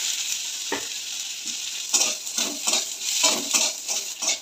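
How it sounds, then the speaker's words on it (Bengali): Onions sizzle in hot oil in a pan while a spatula stirs them, giving a steady crackling hiss broken by quick rhythmic scraping strokes, close and clear with no talking. "পেঁয়াজগুলো একটু হালকা হালকা ভাজা হবে।"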